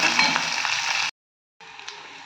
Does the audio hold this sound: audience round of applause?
no